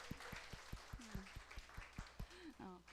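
An audience claps in slow, evenly spaced single claps, faint and sparse, while a voice speaks over them.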